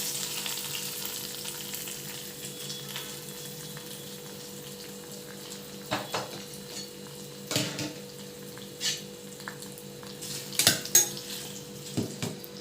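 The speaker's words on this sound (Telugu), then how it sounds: "ఉప్పు వేగిపోయిందండి, తిరగమాత వేసుకుందాం." Spices sizzle in hot oil for a tadka going into Telugu dal with tender tamarind leaves, curry leaves and asafoetida, a steady soft fry under scattered clinks of a spoon and pan, close, no speech.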